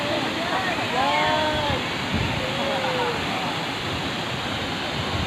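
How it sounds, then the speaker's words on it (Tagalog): Bolinao Falls waterfall, a steady rushing roar of falling water that fills the scene, with people talking and a few birds calling over the constant wash. "Check! Waterfalls."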